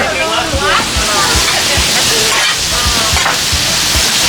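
Food sears loudly on a Blackstone griddle outdoors, a strong continuous sizzle with rhythmic scraping and stirring thumps while a voice talks over it.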